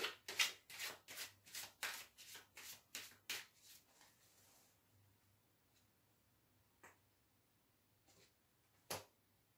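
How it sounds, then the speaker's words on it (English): A deck of tarot cards is shuffled in a quick run of crisp riffling snaps over the first few seconds, then a couple of isolated faint taps follow in a quiet room. "We just shuffle this."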